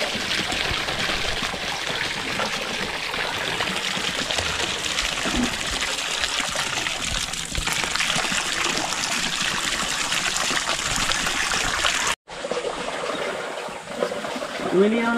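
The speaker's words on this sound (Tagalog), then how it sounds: "Lakas ang tubig oh." Strong water gushes from a household tap, a loud, steady rushing flow that runs for a long stretch before a brief break, with people talking faintly over it.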